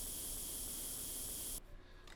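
Paint spraying on a tank hull in a tank restoration game: a steady, loud airy hiss that runs for about a second and a half, then cuts off abruptly, leaving quieter background tones.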